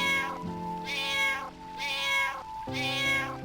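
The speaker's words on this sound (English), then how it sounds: "that cat sounds terrible" A cat in Final Fantasy IX meows three times in a row, each a drawn-out, nasal, tonal call over a soft sustained musical background, with no talk.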